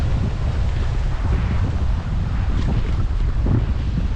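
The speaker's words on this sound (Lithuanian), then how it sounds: "biškį vėjo prie vandens" Wind gusting by the water on a lakeside geological trail at Kaunas reservoir, a steady loud broadband rush buffeting the microphone with low rumble, continuous and close, with no talk.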